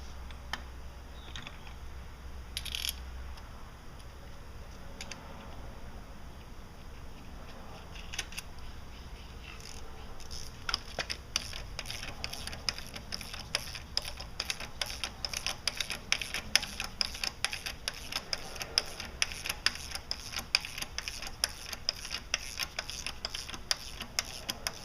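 A ratchet tool draws a front crank seal onto a Ford 6.0 or 6.4 Powerstroke diesel engine. Scattered light clicks give way to a long run of quick, close, regular ratcheting clicks that grow louder over the second half.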